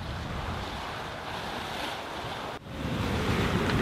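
Steady wind and rushing waves aboard a sailboat on a passage to San Juan, Puerto Rico, with wind buffeting the microphone, one brief dropout, and the wash swelling louder toward the end.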